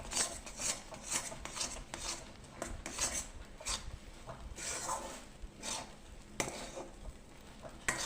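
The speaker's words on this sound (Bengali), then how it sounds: "খুব ভালো করে নাড়তে হবে সুজিটাকে। নেড়ে নেড়ে শুকনো করে নিচ্ছি।" Semolina dry-roasting in a pan, stirred steadily with a spatula until it turns dry. A continuous close scraping and rasping runs throughout, broken by frequent light metallic taps of the utensil against the pan, with no voices.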